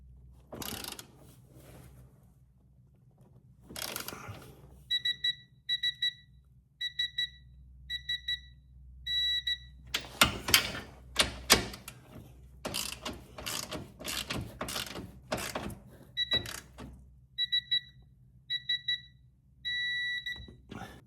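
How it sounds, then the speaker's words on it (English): A ratchet clicks in quick bursts while tightening sway bar bushing bolts on an Audi RS5 B9.5, and a Quinn digital torque meter chirps in repeated rapid beep patterns between the cranking, with no talk. "I'm using one of these Quinn digital torque meters, and these are supposed to be torqued down to 40 Newton meters"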